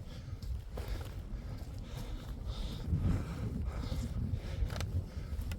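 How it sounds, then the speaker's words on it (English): Cold wind gusts steadily across a microphone on an open hilltop above Kendal, a continuous low rumbling buffet with no talk. "It looks like there's a bit of wind up here."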